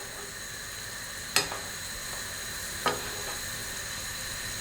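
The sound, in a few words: seafood sizzling in pan while basted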